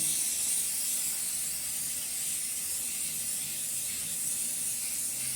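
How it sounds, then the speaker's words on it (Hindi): Spray paint hissing from a can onto a cow-dung wall putty surface, a steady close, continuous high hiss running unbroken throughout with no pauses. "ऐसे आप कोई सा भी कलर का स्प्रे लेके इसमें आप कर सकते हो।"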